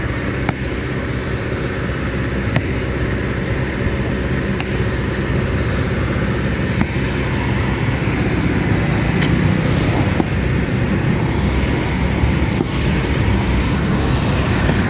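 A heavy vehicle reverses at a river dredging site during bridge demolition on the Apur river in Batujaya, giving a steady broadband engine rumble with road-like noise and faint clicks throughout.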